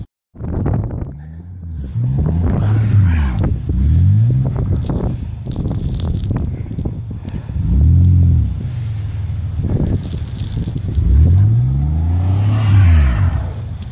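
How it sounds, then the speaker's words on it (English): A car stuck in deep snow during a winter storm, its engine revving up and down repeatedly as the tires spin, loud and close with wind buffeting the microphone. "Try to go forward. You got to go forward and back and try to twist the tires"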